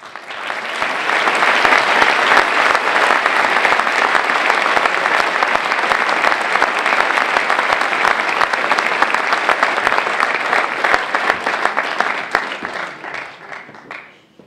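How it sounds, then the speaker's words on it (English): Sustained, loud applause from a large audience greets research award winners on a podium at a university anniversary ceremony, dense clapping swelling quickly and holding for over ten seconds before tapering off. "So please give a hand of applause for these winners for the Research Awards."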